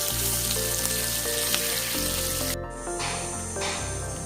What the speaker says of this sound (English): I'm going to saute them into the spices